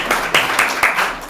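A congregation at a Friday night Shabbat service breaks into applause, a short dense burst of many hands clapping at close range with no pauses.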